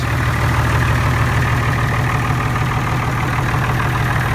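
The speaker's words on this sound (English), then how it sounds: "It's idling pretty nice." An IH Farmall 560 tractor engine idles steadily at close range, a low, even rumble that holds without change throughout.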